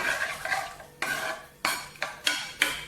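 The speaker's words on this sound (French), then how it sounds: "avec une grosse louche, on va mettre une bonne part de sauce tomate et on étale" A large ladle scooping homemade tomato sauce for a Neapolitan pizza, with about five sharp metallic clinks and scrapes against the pot. The strikes come at irregular intervals, close by and moderately loud.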